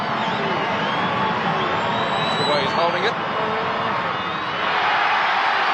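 A football crowd at a 1986 Essendon versus Sydney match, a broad, steady roar of many voices with a commentator talking over it throughout.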